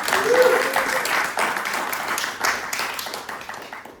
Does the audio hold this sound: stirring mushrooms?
no